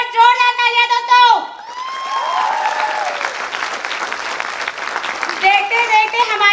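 A crowd at a company's second-anniversary celebration bursts into loud, sustained applause with cheers and whoops, while a tonal music passage plays at the start and returns near the end.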